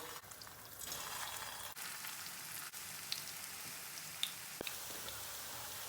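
A small piece of potato drops into hot frying oil and sets off a quiet, steady sizzle with faint crackles and a few soft pops.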